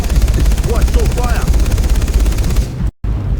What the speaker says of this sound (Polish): Czekaj, czy ten śmigłowiec na nas leci?